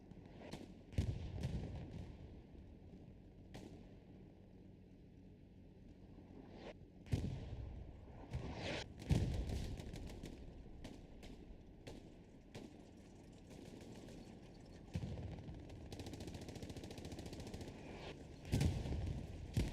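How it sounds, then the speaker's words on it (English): Sporadic MP40 submachine-gun fire in a competitive esports shooter match, with short bursts and single shots scattered over a steady background hum, at moderate loudness without talk. "Doing a little shooting with his MP40."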